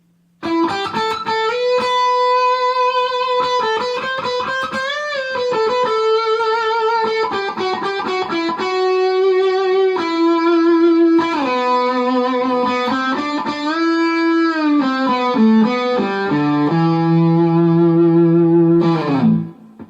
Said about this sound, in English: it's nice to develop a really sweet vibrato sound.